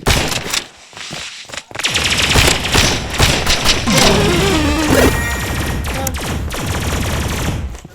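Gunfire and impacts in a video game: loud, dense bursts of shots, crashes and thuds crowd the whole stretch after a brief lull near the start, with a rising tonal effect layered midway.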